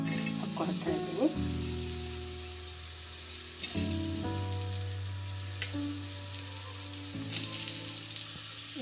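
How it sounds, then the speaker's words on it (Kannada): Onions sizzling in hot oil in a pan on a home stove, a steady close crackle with brief stirring and clinks of a utensil, no talk over it. "ಈಗ ನಾವು ಈರುಳ್ಳಿ ಟೊಮೊಟೊನ ಚೆನ್ನಾಗಿ ಫ್ರೈ ಮಾಡ್ಕೊಳ್ಳೋಣ."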